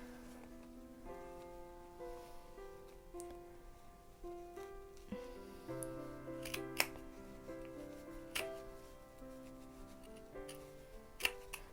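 Scissors snip through sewing fabric while a waistband is cut, with quiet sharp clicks scattered over soft background music and no speech.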